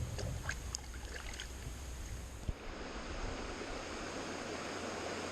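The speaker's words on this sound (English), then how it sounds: "Very picturesque waterfall" A picturesque waterfall in the Upper Ottawa Valley, heard from a kayak, gives a steady, soft, distant rushing wash with one brief knock partway through and no voices.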